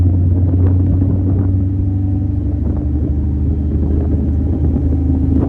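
A Terminator Cobra car drives with a low, steady engine rumble heard from inside, continuous and fairly loud with no talking over it.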